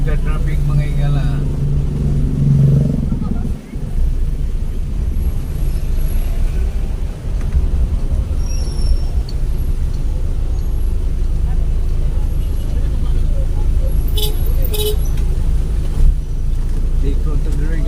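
Heavy street traffic in Iligan City: a dense, steady rumble of cars and buses with low engine drone throughout, brief brake hiss and clatter, and someone talking over the noise for most of the stretch.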